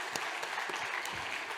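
A church congregation claps to welcome a new family during a Sunday service, steady dense applause filling the room from start to finish.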